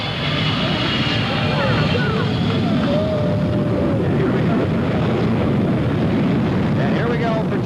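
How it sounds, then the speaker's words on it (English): Concorde doing a touch and go at an air show in Waco, its four Rolls-Royce engines roaring at full thrust in a loud continuous rumble, with someone talking over it. "that powerful 4 Rolls-Royce engines will be full thrust once again for the takeoff"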